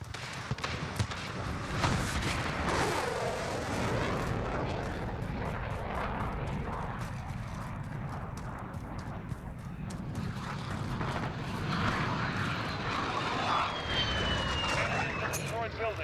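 A VTOL aircraft roars overhead in a Call of Duty Modern Warfare match, a continuous jet rumble mixed with distant gunfire and battle noise throughout.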